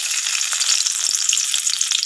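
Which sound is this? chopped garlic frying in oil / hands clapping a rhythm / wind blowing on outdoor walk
chopped garlic frying in oil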